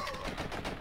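A rapid stream of shots from an unlimited-ammo gun in the video game Blood and Bacon, fired in quick succession as one continuous, close, loud burst.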